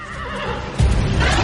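A horse neighs in a clear, loud whinny that holds steady, then grows heavier and more forceful toward the end, with no voices.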